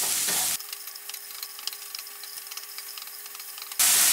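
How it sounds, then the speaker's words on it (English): Celery, bell pepper, carrots and mushrooms sauté on high heat, a crackling sizzle with stirring scrapes; the sound drops to a thin, filtered level in the middle before returning loudly, with no voices. "If you saute everything on the high heat, you have to constantly mix it because it's going to burn."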